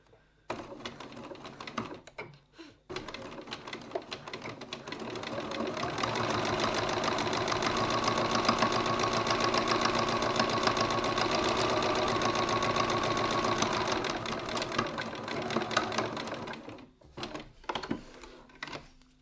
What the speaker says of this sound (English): So I'm going to top stitch 3mm or 1/8 of an inch from the side.